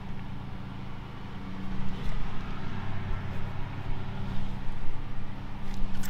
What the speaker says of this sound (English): Sorry for the lawnmower going in the background.